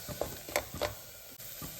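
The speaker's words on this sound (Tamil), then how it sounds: "பச்சை வாசனை போகிற வரைக்கும் லைட்டாக வதக்கி விட்டுடலாம்." Masala sizzles and sputters in a hot pan, with short scraping stirs at a steady rhythm, close and fairly quiet, no talking.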